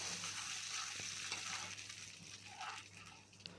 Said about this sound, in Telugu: ఇక్కడ నేను ఆయిల్ వేడి చేసుకొని ఇందులో యాడ్ చేస్తున్నాను.